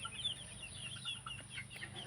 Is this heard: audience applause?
no